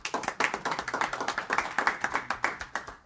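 An audience gives a round of applause for Ahmed Amir at an open meeting, a dense, steady run of hand claps from a crowd lasting a few seconds.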